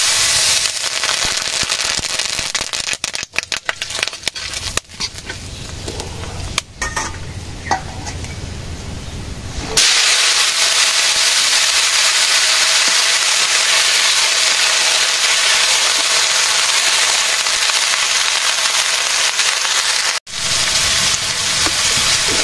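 Water lily stems fry in hot oil seasoned with dried chilli, bay leaf and a little mustard, giving a loud, steady sizzle and crackle that runs throughout with a brief quieter, rougher stretch early on.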